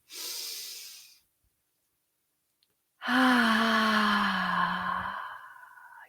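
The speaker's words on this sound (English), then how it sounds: "I'm just going to take a deep breath here and now" A person exhales in a short breathy sigh, then after a pause of silence draws a long, deep, audible breath, close and alone with no talk.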